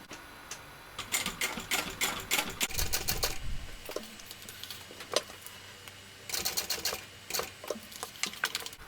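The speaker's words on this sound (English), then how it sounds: "we're going to top stitch around here at 1/8 of an inch" A sewing machine top stitches a shoulder bag in short bursts of rapid, close mechanical clatter, pausing briefly between runs of stitching.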